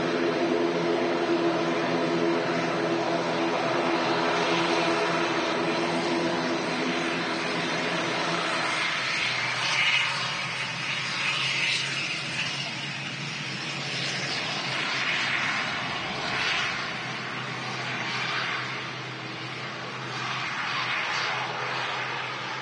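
An ATR turboprop airliner at Manchester Airport runs with a loud, steady engine roar and propeller drone that fades and broadens after several seconds, heard alone at a moderate distance.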